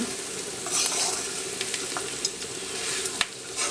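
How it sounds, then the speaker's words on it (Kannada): Pork masala fry sizzling in a pan while being stirred, with steady frying hiss and scattered scraping clicks of the spoon, close and continuous without speech. "ಕಾಚಿ ಪುಳಿ ಹಾಕಿ ಚಂದ ಮಗ್ಚ್ಕೋಬೇಕು"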